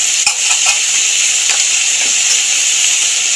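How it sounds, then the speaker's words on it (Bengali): Chopped snake gourd frying with potatoes in a pan, a steady bright sizzle and hiss with a few faint scrapes of stirring, close and continuous without talk. "চিচিঙ্গাটা ভাজতে ভাজতে আলুর সাথে"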